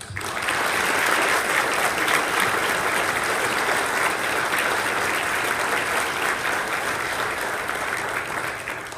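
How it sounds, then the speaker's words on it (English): Sustained applause from an audience at a Health in Africa event in Atlanta, honoring a retiring colleague; steady, dense clapping lasting the full stretch at constant loudness, with no speech over it. "Wayne, you deserve a round of applause for all you've done."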